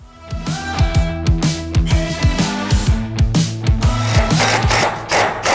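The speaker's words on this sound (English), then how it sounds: "we're going to lay that out and start putting that up there and screwing that in." Tin roofing is screwed onto a portable horse shelter kit, a loud, close power driver whirring in a rapid, regular stuttering rhythm that runs without a break for the whole stretch.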